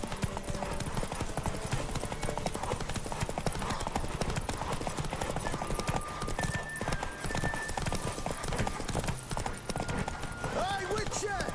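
Horse hooves in The Witcher 3: Wild Hunt clop in a steady rhythm under game dialogue, with a faint whinny near the end over quiet background music.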